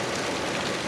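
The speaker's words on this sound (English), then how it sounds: "I'm going inside to get out of this rain." Steady rain falls outdoors, a dense, even hiss of drops on surfaces with no voices, continuous and fairly close for a brief moment.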